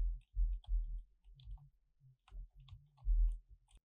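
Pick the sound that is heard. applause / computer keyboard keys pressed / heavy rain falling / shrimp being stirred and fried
computer keyboard keys pressed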